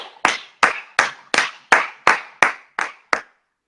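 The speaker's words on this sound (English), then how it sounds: "Just keep clapping until" Nine sharp, close hand claps in a slow, even rhythm, each crisp and isolated against silence, ending after about three seconds.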